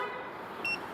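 A car alarm system on an Acura TSX gives a single short, high horn chirp as the doors lock, brief and moderately loud against a quiet background hum.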